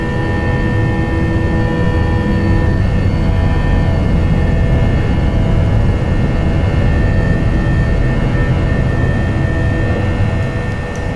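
Airbus A320 jet climbing after takeoff in the Prepar3D simulator, a loud, steady roar of engines with a sustained tonal whine running unbroken throughout, no voices.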